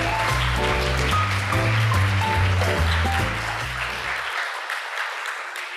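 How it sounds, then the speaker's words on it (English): Audience applause welcoming a speaker to the stage at the IDW 2022 closing plenary in Seoul, a steady dense clapping over loud walk-on music that stops partway, the clapping continuing alone. "please welcome him with a big round of applause"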